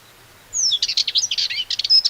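A Sardinian warbler sings a fast, scratchy burst of chattering notes and thin whistles, close and clear over near silence, lasting under two seconds.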